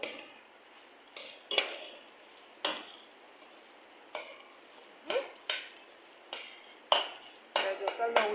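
Ground beef cooking in its own water and oil in a pan, heard as a soft sizzle broken by repeated sharp scrapes and stirring clatters of a utensil against the pan, close and intermittent.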